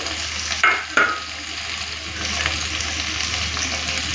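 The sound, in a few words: prawns frying together with ridge gourd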